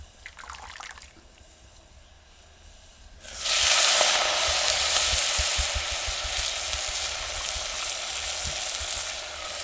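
Fenugreek greens drop into hot oil with asafoetida and erupt into a loud, close sizzle that keeps hissing steadily, after a few seconds of quieter pan noise.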